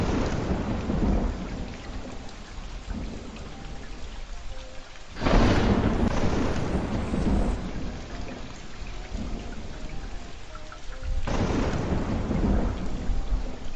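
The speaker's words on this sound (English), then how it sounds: "The tank has these tropical storms 5 times a day." Steady heavy artificial rain pours down inside a terrarium tank in a simulated tropical rainstorm, with bursts of rumbling thunder, close and loud, with no voices.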